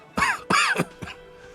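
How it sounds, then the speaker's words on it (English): An old man coughing in the game Disco Elysium, three quick harsh coughs close up, followed by a fainter fourth cough and quiet. "The old man coughs."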